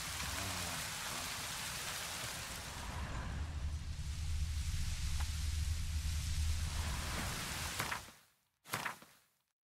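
Steady rain pours down in the world of The Witcher 3, a dense wash of hiss lasting most of the scene before cutting off abruptly, followed by a brief separate burst.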